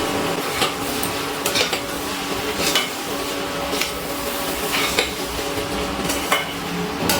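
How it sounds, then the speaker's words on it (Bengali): Masoor dal with bottle gourd, potato and coriander powder being stirred in a pan, a spoon scraping and clinking steadily against the metal over a constant sizzle, close and loud. "আর সব কিছু আবারও আমি একটু নাড়াচাড়া করে মিশিয়ে নিচ্ছি।"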